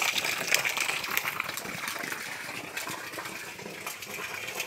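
Water gushes steadily through a pipe feeding a homemade micro hydroelectric plant in rural Rondônia, a continuous close hissing rush with no voices.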